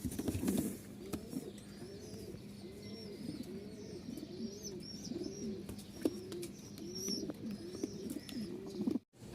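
Pigeons coo in a steady repeating rhythm, about one call per second, with faint chirps and rustling in the background.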